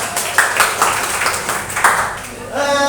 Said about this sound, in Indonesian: Oke, tepuk tangan dulu untuk kawan.